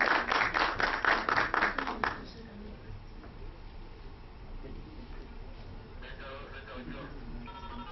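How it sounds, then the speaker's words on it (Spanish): An audience claps to welcome a speaker at a talk, a rhythmic burst of applause lasting about two seconds before it stops abruptly, leaving low room noise with faint voices. "recibámoslo con un fuerte aplauso"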